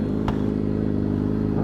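A motorcycle engine idles and revs steadily nearby, a loud low rumble throughout with a brief sharp clatter early on.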